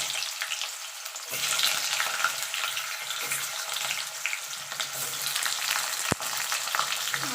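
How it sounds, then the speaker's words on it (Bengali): Potatoes fry in hot oil in a wok (kadai), a steady close sizzle with stirring scrapes throughout and one sharp clack near the end; no voices. "আলুগুলো আমি একটু ভেজে নেব।"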